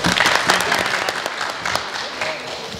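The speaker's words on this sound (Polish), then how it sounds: "tu duże brawa dla pana Adama Ryżowskiego" A room full of people claps steadily at a municipal awards ceremony, a sustained round of applause close by with a voice briefly audible underneath.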